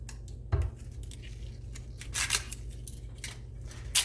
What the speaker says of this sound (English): Next, we're going to go ahead and cut our onion.